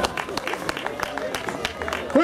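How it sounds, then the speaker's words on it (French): Crowd clapping with scattered cheers and chatter at a cross-country race finish, sustained applause with dense claps under a busy outdoor hum. "merci d'applaudir la victoire de monsieur Mickaël Gras"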